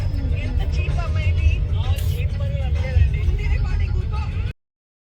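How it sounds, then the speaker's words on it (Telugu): Heavy road traffic rumbles throughout, with car and bus engines droning low under a steady din and people talking over it, ending in sudden silence. "ఎట్లుంది చూడండి ట్రాఫిక్ అసలు మొత్తం"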